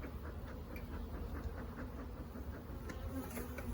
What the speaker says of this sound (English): I know, I just upset y'all.